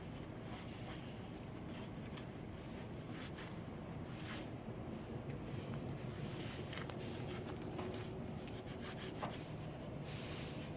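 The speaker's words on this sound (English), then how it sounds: "All that is taking the material, patch and repair material that you already have, and working it into the surface." Continuous close scraping and rubbing as Eucorepair V100 patch and repair material is worked into the pores of a concrete surface for a scrub coat, a steady even texture without pauses.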